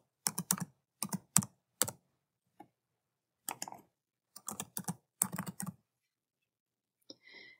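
Someone types on a computer keyboard while logging in to a portal. The clacking comes in short bursts of keystrokes separated by pauses, close and fairly quiet.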